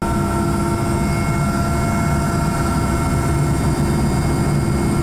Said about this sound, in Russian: Вертолет отправляется на поиски.